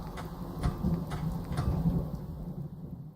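Rain hiss with low thunder rumble in the video game Fallout 4, a steady stormy wash over about three seconds, moderately loud with no speech over it.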